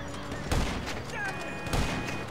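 Bursts of gunfire in GTA Online, two louder volleys about a second apart, over a steady noisy background.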